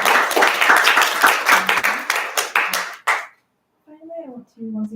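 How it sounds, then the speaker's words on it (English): An audience claps for three performers at a Word Circus show, dense applause that runs about three seconds then stops abruptly, followed by a brief spoken voice. "Let's have one more round of applause for all three."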